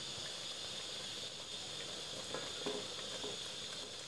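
Mushroom soup boiling hard in a pot, a faint continuous hiss and bubbling with a few soft clicks of stirring or pot contact, no voices.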